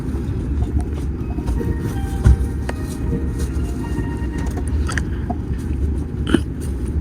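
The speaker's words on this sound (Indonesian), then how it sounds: "pertanda kereta diperintahkan untuk berjalan" Low, steady rumble of a high-speed train starting to move out of Kunming, bound for Chongqing North, with occasional faint clicks and creaks over the droning hum.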